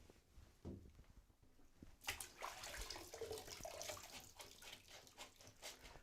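Shower water running, starting with quieter background noise, then a loud, steady hiss and splash of spray from about two seconds in, continuing without talking.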